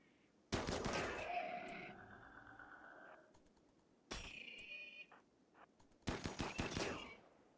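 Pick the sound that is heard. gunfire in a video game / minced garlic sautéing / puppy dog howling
gunfire in a video game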